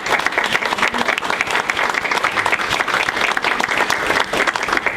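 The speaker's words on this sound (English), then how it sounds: "Please give them a round of applause" Audience applause at a ribbon-cutting ceremony for the Lillian Lodge Kopenhaver Center, steady dense clapping from a sizable crowd filling the whole stretch at full strength.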